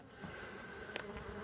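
Honey bees buzz in a dense, continuous drone from an opened hive during a late-season swarm check, steady and close with no voices.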